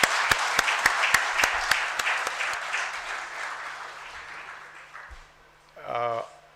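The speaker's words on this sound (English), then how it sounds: "I'd like to have a round of applause for both of them" Audience applause at a felicitation ceremony, dense clapping with a few sharp individual claps that fades out over several seconds before a speaker's voice returns.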